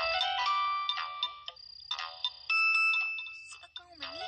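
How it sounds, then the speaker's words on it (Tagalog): A mobile phone ringtone plays a repeating electronic melody for an incoming call, loud and close, in tonal bursts with brief gaps and a low background hum. "Si Akaw man eh. Nanawag man"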